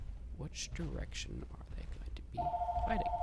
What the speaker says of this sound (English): Again, apologies for my phone.